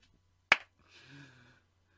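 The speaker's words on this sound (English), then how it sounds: "I high-fived myself, which I realise is just a clap" A single sharp hand clap, one person high-fiving themselves, rings out once near the start in a quiet room, followed by a faint brief rustle.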